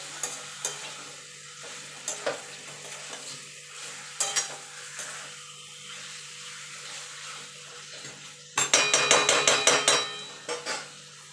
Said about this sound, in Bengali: মশলার সঙ্গে কষিয়ে নেব মিনিট 2 ধরে, যাতে চিকেনটা একটু ভাজা ভাজা হয়ে যায়।